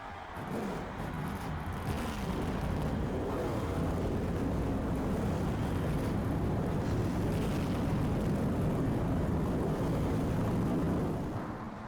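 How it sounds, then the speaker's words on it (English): Stock car engines from NASCAR Thunder 2004 at Charlotte fire up and roar in a loud, steady, dense drone that holds for the whole stretch, fading slightly at the end. "Gentlemen, start your engine."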